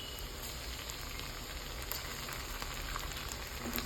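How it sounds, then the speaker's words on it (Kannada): Onions with ginger garlic paste fry in a pan for soya chunks uppittu, giving a steady close crackling sizzle with no talk. "ವಾಸನೆ ಹೋಗೋವರೆಗೂ ಹುರ್ಕೊಳ್ಳೋಣ."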